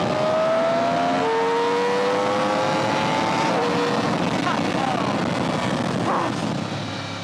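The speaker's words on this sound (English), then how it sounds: "a cross-plane crankshaft is a very special firing order. It comes directly from Rossi's Yamaha M1" A Yamaha R1M sport motorcycle with a MotoGP-derived cross-plane crankshaft engine gives a loud, high-pitched engine whine that climbs in pitch as it revs, with a voice over it.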